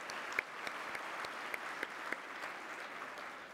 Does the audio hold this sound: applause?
yes